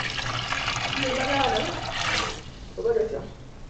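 Water poured or running from a tap while making Jamaican green banana stew, a splashing, hissing stream that comes and goes in short bursts, with a voice speaking around it.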